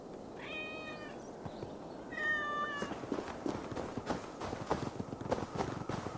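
Cats in Assassin's Creed Valhalla, a herd of them trailing behind the player, give two clear meows close by. Soft, steady footsteps patter underneath and continue after the meowing stops.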